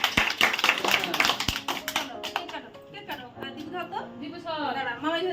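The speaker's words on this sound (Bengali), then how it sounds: "হাততালি দে, হাততালি দাও" Hand clapping at a child's birthday celebration at home, a few people clapping in quick rhythmic bursts at the start, then fading as family members talk and call out over it.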